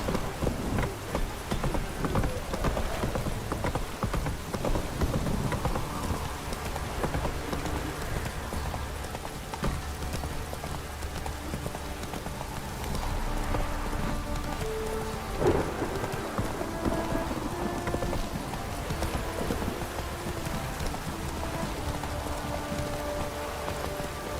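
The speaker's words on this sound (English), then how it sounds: "This downpour's a bastard in it." A heavy, steady downpour hisses without a break, with low rumbles of thunder rolling underneath, in the video game The Witcher 3: Wild Hunt.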